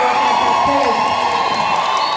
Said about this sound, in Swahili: makofi na vigeregere